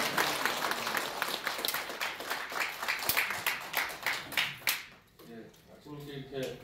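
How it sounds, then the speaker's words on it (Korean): An audience at a briefing applauds to welcome a speaker, a close, busy round of clapping that lasts several seconds and then dies away as a voice begins talking. "여러분 환영의 박수 부탁드리겠습니다."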